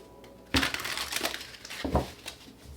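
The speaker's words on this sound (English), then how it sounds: "Let's get 2 more shuffles." Tarot cards are shuffled close by in quick crinkly riffles, two main bursts of papery crackling with lighter rustling between.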